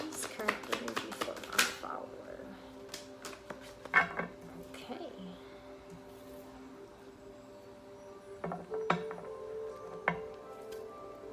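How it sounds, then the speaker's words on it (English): Tarot cards are shuffled in quick bursts of crisp riffling and snapping, with a quieter pause in the middle before more shuffling. A voice speaks softly underneath. "One more shuffle."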